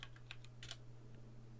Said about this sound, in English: by typing exit.